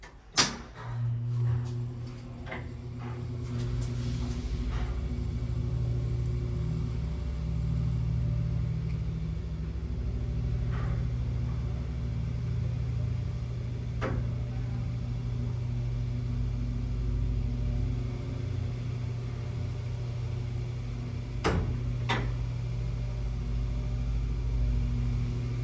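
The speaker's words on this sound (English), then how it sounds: "This is also an ABC elevator. We'll do 2 more rides." A. B. See gated traction elevator in a Boston building on Newbury Street, heard as a steady low motor hum and rumble inside the cab, with a few sharp clicks and clunks from the gate or machinery.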